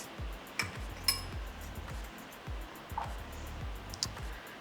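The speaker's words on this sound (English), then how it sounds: "Mix that up." Repeated light clinks and taps of a utensil against a bowl, steady and close, as flour with salt and pepper is stirred and mixed with no one talking.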